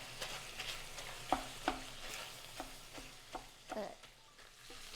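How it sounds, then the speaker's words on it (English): Sausage and ground beef frying in a pan as a utensil breaks the meat apart, with steady sizzling and a series of distinct scraping and tapping strikes against the pan, close and moderately loud. "it breaks in those big chunks of sausage and ground beef"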